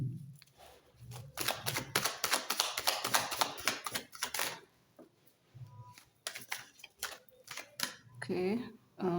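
Tarot cards shuffled by hand in rapid riffling bursts of crisp papery flicks, loud and dense at first, then sparser taps and shuffles with a short pause, close to the listener.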